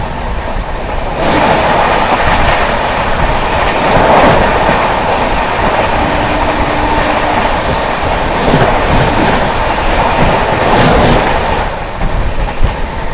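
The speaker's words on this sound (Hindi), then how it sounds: "सामने से आ रही है आप लोगों की गीता जयंती एक्सप्रेस" The Geeta Jayanti Express, running Khajuraho to Kurukshetra, passes close by with a loud, steady roar and rattling of its wagons, continuous throughout.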